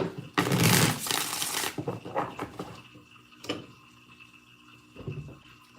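Tarot cards are shuffled on a table: a loud riffling burst, then softer scattered card taps and flicks at close range, with no talking.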